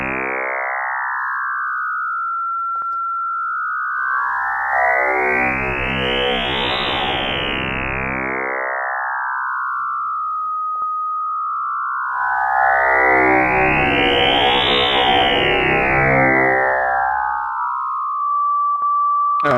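A Zebra 3 synthesizer Krell patch gives a loud FM tone whose pitch sweeps up and down in slow, repeating arcs, heavy with echo and chorus-like shimmer, with no talking.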